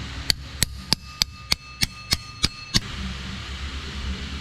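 Metal hammer strikes on car clutch parts during a clutch job: nine sharp, evenly spaced ringing blows in a steady rhythm, loud and close, then quiet workshop ambience.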